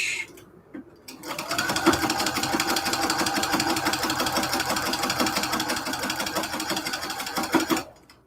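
After a brief pause, a sewing machine starts up and runs a long, steady, rapid stitching buzz while back stitching a cathedral window quilt curtain, then stops abruptly, close and fairly loud throughout.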